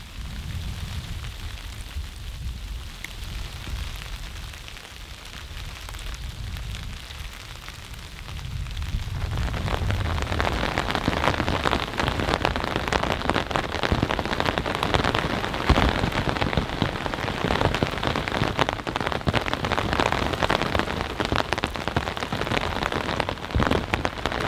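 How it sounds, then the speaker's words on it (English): Ice and heavy rain pelt a tent: a dense, steady patter of drops on the fabric, moderate at first and then swelling into a louder, continuous downpour, with no voices. "as you can see, it is raining"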